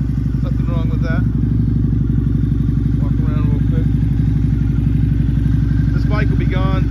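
A 2009 Harley-Davidson Night Rod runs steadily with a deep, loud, rhythmic engine pulse throughout, while someone talks over it at intervals.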